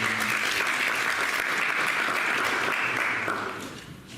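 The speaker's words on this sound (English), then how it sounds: "give them a round of applause." An audience at a finance talk breaks into loud, dense applause that holds steady, then tapers off over the last second.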